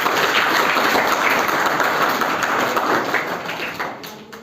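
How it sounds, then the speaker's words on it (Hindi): An audience at a school career guidance program applauds loudly, a dense continuous wash of clapping that holds steady and then gradually fades toward the end. "आप ज़ोरदार तालियां बजाइए।"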